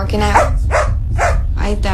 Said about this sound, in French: Elle aboyait et elle grognait.